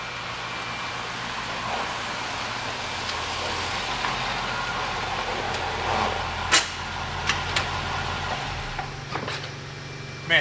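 Corvette C6 coupe driving, a steady low engine drone and road rumble heard from inside at moderate level, with a few brief clicks and knocks near the end.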